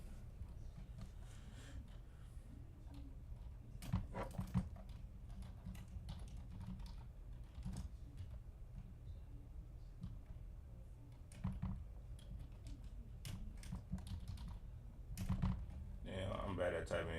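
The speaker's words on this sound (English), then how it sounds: "I'm bad at typing, y'all." Fingers type on a computer keyboard in uneven bursts of soft clicks, close and quiet, with occasional louder clusters and faint background noise.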